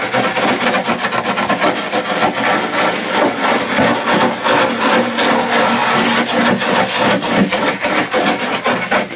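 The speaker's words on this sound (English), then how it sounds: "rough up the surface that you are going to put the fiberglass mat on" Loud, continuous hand abrading of a cracked tub's surface before a fiberglass mat goes on, a steady rasping scrub that fills the whole stretch with no speech.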